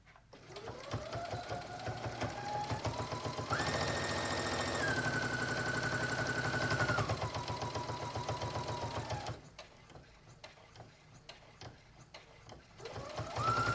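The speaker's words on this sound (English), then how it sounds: "I'm gonna sew right sides together" A sewing machine runs steadily for several seconds, stitching a long fabric strip folded right sides together into a tube for a flower brooch, its whirring pitch rising and falling as speed changes, close and fairly quiet, then briefly pausing before starting again.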